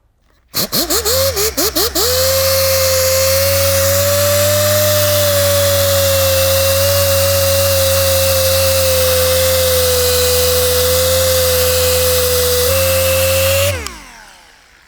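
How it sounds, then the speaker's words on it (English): Rotary machine polisher working on the B-pillars of an E39 BMW M5 during a restoration detail, a steady high-pitched whine that starts after a few quick bursts and runs loud and continuous for about twelve seconds before cutting off. "So I'll get to finish polishing this now"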